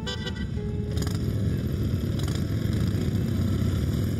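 Motorcycle engines rumbling and idling nearby, a steady low mechanical drone that stays loud throughout.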